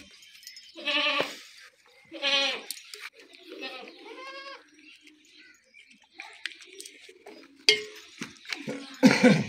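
Goats bleat nearby in several separate, wavering calls spaced a second or two apart, with brief human voices and small noises between them.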